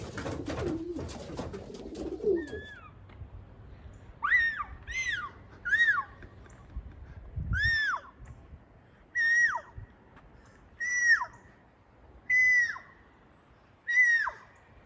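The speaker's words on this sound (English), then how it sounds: "No, the pigeons are making that sound." Young racing pigeons give a series of repeated squeaky calls, about eight short evenly spaced cries, clear and close, after some rustling at the start.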